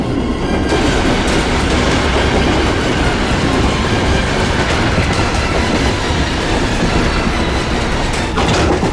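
A moving train rolls along with a loud, continuous rumble and steady clickety-clack from the rail cars, heard close up from on board, with no voices.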